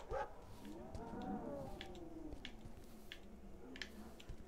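Dogs bark and whimper faintly at a distance in the horror video game Last Stop Station 66, with a few short yips over a low, steady background hum.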